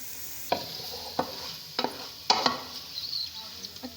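Onions fry in ghee in a pan, a soft sizzle under a series of sharp scraping and stirring strokes, each a separate spatula pass with short pauses between.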